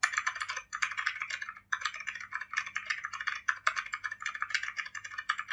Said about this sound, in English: hands typing on keyboard